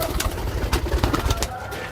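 Pigeons coo in soft, repeated throaty pulses, close by, with several overlapping calls and faint background noise.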